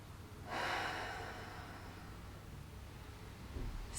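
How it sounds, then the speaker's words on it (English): A single deep, audible breath during a quiet morning yoga session, lying with feet together and knees out, starts with a soft inhale-exhale rush and fades into near silence before a faint second breath at the end. "Take a couple of breaths here."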